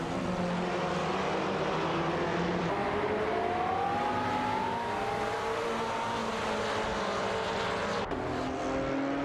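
Racing cars in a video game, a Ferrari 488 GT4 and an Aston Martin Vantage GT4 battling on track, with steady engine drone and rising, shifting revs running loud and continuous throughout, no voices.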